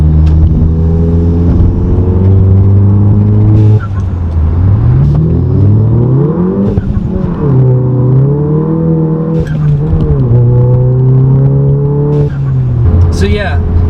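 A 2015 Volkswagen Golf GTI accelerating hard with traction control on, its engine loud and steady, pitch climbing and dropping through gear changes with a throaty rumble throughout.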